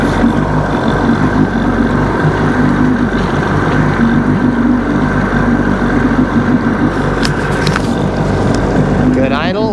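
Seadoo XPDI jet ski engine idling after repairs, a steady loud low rumble that holds evenly throughout, with a faint higher whine near the end.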